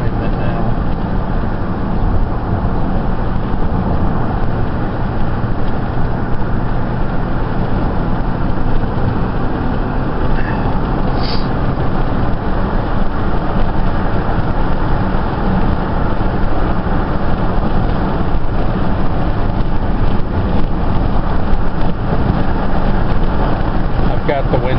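Strong wind buffets through an open car window while driving, a loud, constant low roar and rumble that fills the whole stretch and mixes with road and engine noise.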